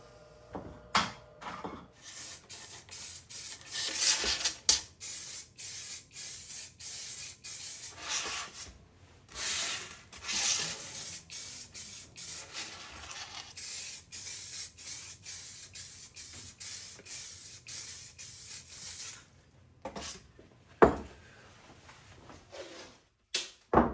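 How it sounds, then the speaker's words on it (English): Aerosol spray paint hissing onto a car interior bezel in repeated short and medium bursts, close and fairly soft, with faint handling rubs between passes and no talking. "Let's paint that bezel."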